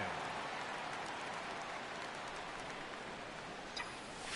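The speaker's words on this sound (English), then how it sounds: "it's really raining hard here tonight" Heavy rain pours steadily at a night baseball game, a dense continuous hiss with no break, faint crowd or field noise beneath and a brief louder patter near the end.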